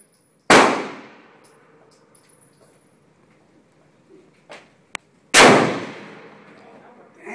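Two loud, sharp rifle reports from an M91 ring out about five seconds apart, each with a long decaying echo, a faint click between them and no talk.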